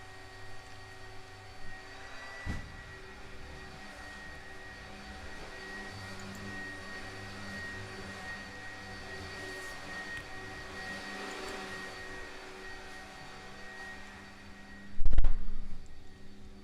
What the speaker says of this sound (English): Pardon the vacuum sounds that you're hearing.